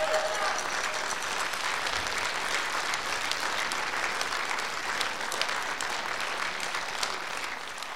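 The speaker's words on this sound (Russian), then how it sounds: "пусть искупают тебя в овациях" Sustained, dense applause from a concert audience as performers of the show group Diadance take their bows at a charity concert for disabled children in Mirny district; loud, steady and continuous throughout.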